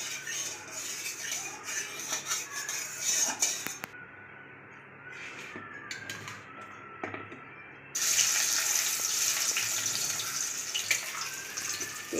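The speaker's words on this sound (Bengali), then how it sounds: "তেলটা কম আছে তো দুটো দুটো করে মাছ ভেজে নেব।" Fish frying two pieces at a time in a small amount of hot oil in a pan, a steady broadband sizzle close by that drops off briefly in the middle before returning louder, with no talking.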